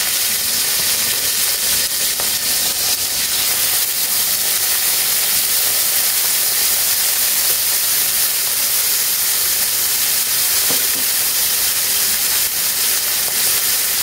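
Food frying gently in oil gives a steady, even hiss with no pauses. It stays loud and close for the whole stretch, with no voices.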